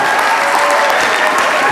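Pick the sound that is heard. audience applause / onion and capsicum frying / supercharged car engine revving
audience applause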